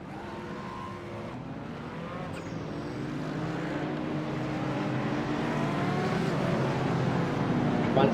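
GT3 race cars in a racing video game roll off the start at Okayama International, a dense blended engine drone building steadily in loudness, with no talk over it.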